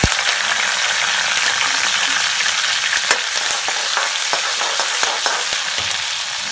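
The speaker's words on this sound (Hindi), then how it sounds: "अब मैं इसके अंदर जीरा डाल दूंगी। जीरे के साथ मैं इसके अंदर कड़ी पत्ता और जो हरी मिर्च जो मैंने कूट ली है," Cumin, curry leaves and crushed green chili hit hot oil in a kadai, giving a steady, close, continuous sizzle with scattered small pops and crackles throughout. No voices.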